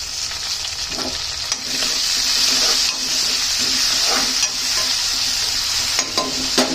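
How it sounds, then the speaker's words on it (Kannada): Tomatoes frying in oil with salt and sugar for churumuri susala give a steady, close sizzle and hiss, broken by a few soft stirring scrapes, with no talking. "ಇವಾಗ ಟೊಮೆಟೊ ಬಂದಿದೆ, ಅದು ಬೆಂದು ಆಯಿಲ್ ಬಿಟ್ಕೊಳುತ್ತೆ"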